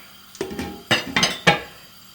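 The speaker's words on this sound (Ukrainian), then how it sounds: "Накриємо кришечку і хай собі кипить." A few metallic clanks and clinks of a lid being handled and set onto a pot, close and brief, with no speech.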